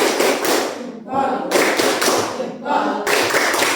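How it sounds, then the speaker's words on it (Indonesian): A classroom of students performs a rhythmic clapping chant in three bursts of clapping, separated by short chanted voices, loud and close. "Tepuk salut lagi ya. Tepuk salut."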